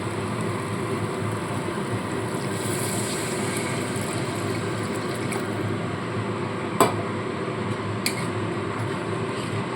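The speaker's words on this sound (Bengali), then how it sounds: "এবার এখানে আমি জল অ্যাড করে দিচ্ছি" Water pours into a pot of spiced vegetarian potato curry (aloo dum) after oil has separated from the masala. A continuous sizzling, liquid rush fills the whole stretch, with a couple of brief utensil clinks near the end.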